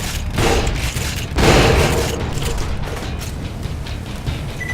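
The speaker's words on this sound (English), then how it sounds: "The Suicider's grenade." A Suicider's grenade explodes in Borderlands 2 with a sudden loud boom, then a second burst follows, trailing into dense noisy rumble and crackle with no speech.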